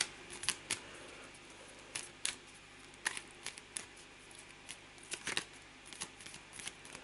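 Playing cards from A Touch of Evil board game are shuffled in short, crisp riffling bursts, irregular and close, with quiet gaps between them and no talk.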